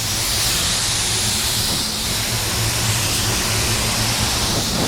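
3M Performance spray gun laying down a second coat of paint, a loud continuous airy hiss with a low steady hum underneath, unbroken throughout and with no speech.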